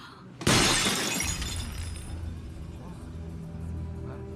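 A precious thousand-year-old egg shatters in an action thriller scene: one sudden, loud, close crash followed by a long, ringing, rumbling decay.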